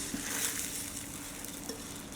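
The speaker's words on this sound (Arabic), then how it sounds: "ندخل نقلب كده كويس لغايه ما الرز يسخن معانا تسخينه كويسه" Steady, soft scraping and crackling as rice is stirred and reheated in a hot pan, with a faint sizzle and a few clinks, no talking.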